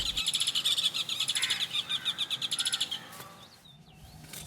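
A pied kingfisher at a wetland gives a fast run of shrill, repeated chirping calls. The calls are loud and close, then break off into quieter background near the end.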